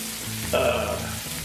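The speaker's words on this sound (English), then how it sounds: "Butter's starting to bubble." Butter bubbling in a hot pot, a short close sizzle with a brief higher hiss partway through.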